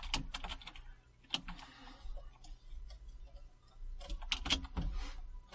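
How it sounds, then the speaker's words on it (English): Typing on a computer keyboard during Kotlin coding, with bursts of quick, close key clicks and clacks separated by short pauses, fairly quiet against a low background hum. "Oh, great typing skills here."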